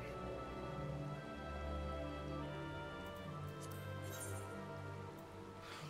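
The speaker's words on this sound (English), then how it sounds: "It's raining out." Steady rain falls outside, a continuous soft hiss of drops on surfaces, even and unbroken throughout with a low background hum, no talk.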